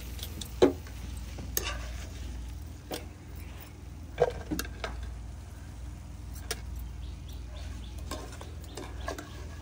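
Pieces of bread fry crisp in oil, a low steady sizzle with occasional sharp clicks and scrapes from stirring, close up and fairly quiet, without any voices.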